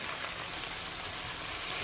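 Garlic fries in a pan with peppers, giving a steady, even hiss of sizzling oil that stays soft and unbroken, with no talk.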